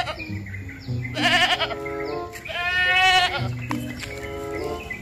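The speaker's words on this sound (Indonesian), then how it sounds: "lihat teman-teman, ini kambing" A goat bleats loudly and close by in several wavering calls, some long and quavering, with quieter bleats between them while the animal is being cleaned.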